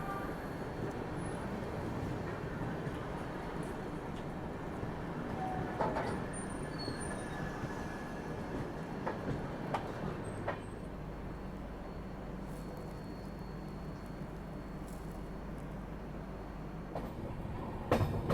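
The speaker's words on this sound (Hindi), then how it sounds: "फिलहाल अपनी ट्रेन पहुंच रही है पठानकोट कैंट रेलवे स्टेशन" An express train running on rails as it arrives at Pathankot Cantt station in India, with a steady loud rumble and rattle throughout, faint clicks of the wheels over the track and a deeper rolling drone toward the end.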